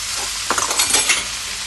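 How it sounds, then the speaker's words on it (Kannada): Chicken sizzles and fries with masala, coriander and mint while a spoon scrapes and stirs the pan in a short burst of close scraping strokes over a steady hiss. "ಇದೆಲ್ಲ ಮಸಾಲೆ ಜೊತೆಗೆ ನೀಟಾಗಿ ಫ್ರೈ ಆಗಬೇಕು"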